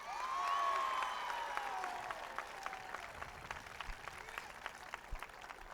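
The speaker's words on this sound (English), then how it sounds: "How about a big round of applause for Buddy Cianci?" A 1996 Bill Clinton rally crowd in Providence, Rhode Island applauds, scattered distant claps and cheers spreading under a lingering tone that fades away.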